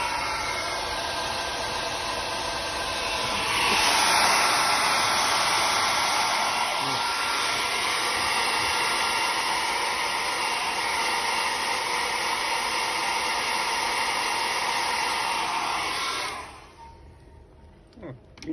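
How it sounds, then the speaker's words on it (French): A handheld hair dryer blows steadily over wet paper in a lab setting, a loud continuous whooshing roar that holds for about sixteen seconds before cutting off, with faint background noise after. "vous activez le sèche-cheveux et vous séchez de manière superficielle"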